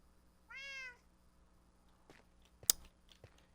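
A cat gives a single clear, rising-and-falling meow in a quiet indoor room, followed by scattered soft clicks and one sharp tap.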